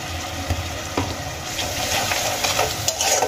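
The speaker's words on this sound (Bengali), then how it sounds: "এবার আমি পেঁয়াজ আদা টমেটো একসঙ্গে কিছুক্ষণ কষিয়ে নেব" Onion, ginger and tomato with salt and turmeric fry together in a pan for an egg and potato curry. A dense, continuous sizzle runs under repeated stirring scrapes and light clinks, all close and steady.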